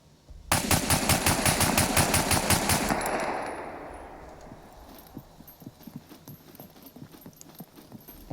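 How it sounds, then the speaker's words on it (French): Scoped pistol fire in the survival game SCUM, a rapid string of evenly spaced sharp shots for about two and a half seconds, then a fading tail and scattered faint clicks. "On passe au tir avec viseur."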